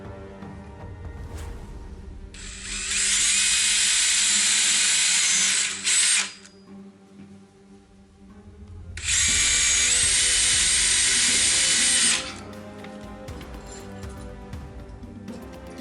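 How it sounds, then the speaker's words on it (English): A power drill whirs loudly in two long bursts of about three seconds each, with quieter handling noises between and around them. "then I take my drill."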